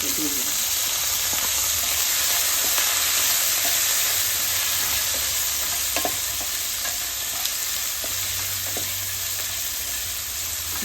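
Onions with curry leaves, green chilli and crushed ginger sizzle steadily in a pan for a cauliflower, green pea and potato fry curry, with a continuous bright frying hiss and a few sharp scrapes and clicks as a spoon stirs them.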